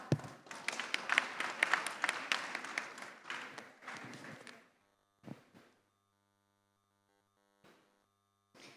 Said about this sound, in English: So a quick round of applause before we start our panel talk.